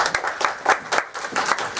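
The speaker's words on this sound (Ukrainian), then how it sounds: "Давайте почнемо якось з аплодисментів" Scattered applause at the opening of a youth policy round table: a small group claps in uneven, distinct bursts, close and sparse, for under two seconds.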